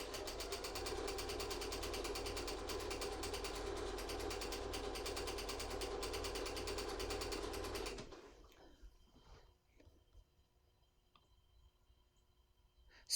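A sewing machine runs at a steady fast hum while stitching the border of a gnome-themed appliqué table runner, then stops after about eight seconds, leaving faint handling noises and no talk.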